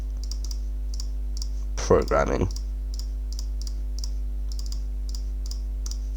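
A computer keyboard typed in short, regular bursts of light clicking against a steady electronic hum, with a brief spoken word partway through.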